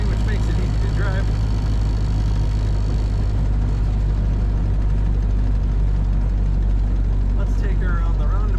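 1930 Ford Model A Deluxe Sedan underway, its engine a steady low droning hum inside the cabin beneath a voice talking throughout.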